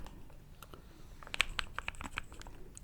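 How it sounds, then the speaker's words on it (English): Light clicks and taps on a custom computer keyboard, a scattered cluster of keystrokes heard close and quiet in a hushed room. "My keyboard."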